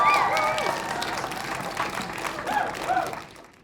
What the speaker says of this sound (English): Please, can you make a massive round of applause for the one,